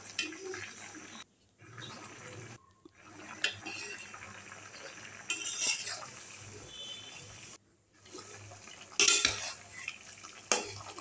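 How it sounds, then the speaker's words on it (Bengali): Pieces of kalibaush fish are added to a pan of winter vegetables, bringing soft sizzling, clinks and scraping utensil sounds in short bursts broken by brief silent gaps. "এখন আমি মাছগুলো দিয়ে দিব।"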